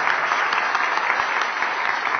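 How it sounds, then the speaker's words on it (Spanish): An audience at a conference session applauds a speaker, producing a steady, even burst of clapping that stays loud and uniform throughout with no voices over it. "Un aplauso fuerte entonces para Jorge Vigar"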